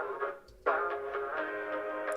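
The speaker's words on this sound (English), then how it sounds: "So you can now hear that it's like a vintage radio," Filtered footage audio with a narrow, boxy vintage-radio tone, thin and midrange-heavy, running continuously and loud after a brief dip at the start.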